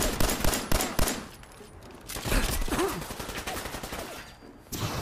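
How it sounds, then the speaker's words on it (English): Gunfire in Fallout 4: rapid bursts of shots crack loudly in quick succession, then after a quieter stretch of battle noise another salvo erupts near the end. "Just shooting it."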